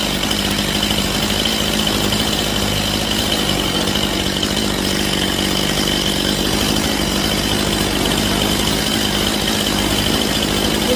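A Stihl chainsaw idling at low revs during a carburetor tune-up, a loud, steady buzzing two-stroke drone held evenly throughout, close by with no voices.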